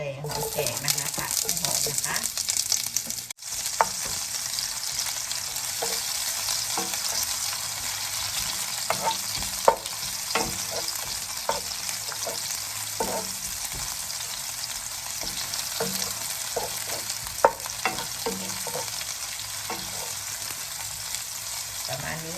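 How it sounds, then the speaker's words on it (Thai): Shallots fry in hot oil in a wok for pad thai, a steady loud sizzle with scattered scraping stir strokes and small pops throughout, no talking. "ถ้าร้อนน้ำมันร้อนนะคะจะใช้หอม"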